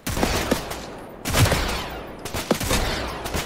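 Several sharp gunshot bursts from the PS5 battle royale game Off the Grid ring out at irregular intervals, each followed by a short echoing decay, loud and close.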